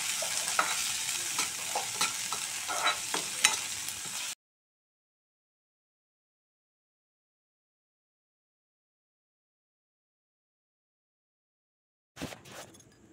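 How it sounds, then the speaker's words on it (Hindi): Onions with cumin and mustard seeds fry in mustard oil, crackling and sizzling with sharp pops and stirring for about four seconds, then silence, then a brief burst of frying near the end. "जीरा सरसों डालें और प्याज को पहले भून लेंगे। प्याज को लाल होते तक भून लेंगे।"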